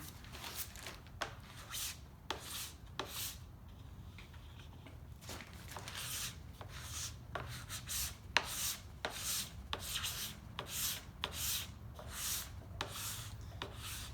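A scraper rasps across ski wax under firm thumb pressure in repeated short strokes, a dry rubbing sound close by, with no talk.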